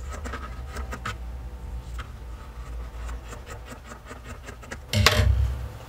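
Scissors cutting a fabric pattern piece for sewing give soft scraping snips and rubbing on a table, close and moderate, ending with a louder thump of handling.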